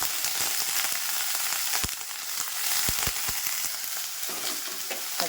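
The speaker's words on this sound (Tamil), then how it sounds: "இப்போ நான் வந்து கத்திரிக்காய் போடுறேன்." Eggplant pieces dropped into a pan with sautéed garlic cloves, frying with a loud, continuous sizzle close by, a few sharp taps of a spatula stirring against the pan, no voices.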